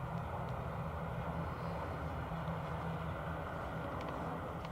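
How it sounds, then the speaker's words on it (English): An SAS airliner arriving from Copenhagen comes in to land at Dublin Airport, a steady distant jet roar that holds evenly throughout, low rumble dominating with no voices over it. "Irish registered SAS next to land."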